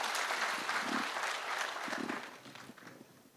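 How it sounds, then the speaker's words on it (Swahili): An audience at a county security forum in Kakamega claps for its leaders, a dense burst of applause that tapers off toward the end with scattered faint voices. "Tupigie makofi viongozi wetu."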